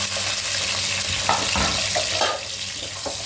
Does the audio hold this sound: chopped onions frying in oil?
yes